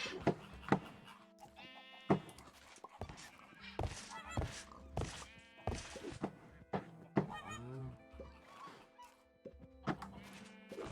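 Sheep bleat repeatedly in a modded Minecraft game, short nasal calls mixed with goose-like honks and other farm animal sounds, with a voice speaking over them now and then.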